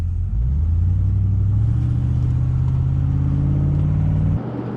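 Car driving on the road, a loud steady interior engine drone and road rumble with a rising pitch as it accelerates, cutting off near the end.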